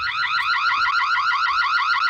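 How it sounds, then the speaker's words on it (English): A security camera's audible alarm: a loud electronic siren warbles rapidly and continuously, a high pulsing alarm tone sounding steadily up close without pause. "we have an audible alarm as well"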